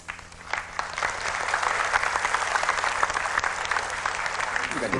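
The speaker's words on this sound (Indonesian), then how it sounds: "tepuk tangan untuk pilihan Anda" A studio audience claps steadily for several seconds during a motivational talk show, a dense even applause that swells quickly after a quiet start and holds to the end.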